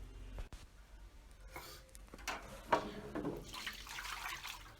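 Leftover water poured out of a bucket after washing an old wig, a quiet splashing and trickling that builds toward the end, close by and with no talk.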